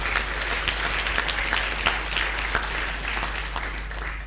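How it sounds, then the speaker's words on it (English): Steady applause from a crowd, a dense patter of clapping that holds at an even level throughout. "Let's give them a round of applause."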